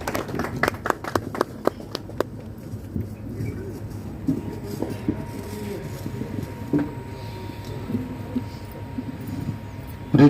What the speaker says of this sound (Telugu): మరి చప్పట్లతో వారిని ఆహ్వానిద్దాం.